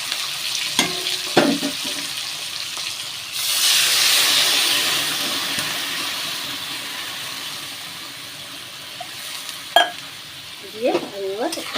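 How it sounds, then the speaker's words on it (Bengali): Water poured into hot oil holding fried hilsa fish sets off a loud burst of hissing sizzle and steam that slowly subsides, with spoon knocks against the pan before and after. "এবার আমি পরিমাণ মতন জল দিয়ে দেবো"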